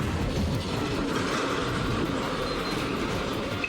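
A train rumbles past close by, steady and loud, with a continuous clattering of wheels on the tracks, after striking a car.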